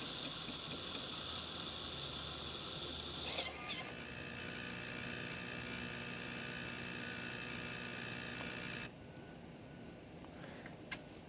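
A Jura E8 automatic espresso machine makes a cappuccino with a continuous mechanical whir and pumping drone, loud and close, then drops to a quieter hum near the end with a few faint clicks.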